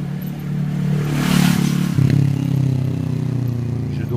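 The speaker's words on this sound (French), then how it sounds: "Je vais repasser le mec en moto." A motorcycle passes nearby in an urban street, its engine rising and revving loudly for about four seconds, with a steady low drone and a brief clatter midway.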